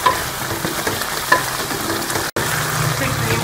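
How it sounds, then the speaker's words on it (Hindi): White chicken karahi frying with fresh cream in a pan, giving a loud, steady sizzle with faint stirring scrapes throughout and a brief dropout near the end. "क्रीम के साथ अच्छी तरह से भून लेंगे।"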